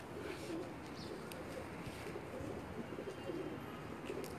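Pigeons coo softly on a rooftop loft, faint and somewhat distant, with repeated low calls scattered through a hissy outdoor background and no voices.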